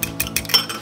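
Baking powder beaten into a zucchini flour batter, a brief burst of quick utensil clinks and taps against a bowl, close and fairly loud with no talk.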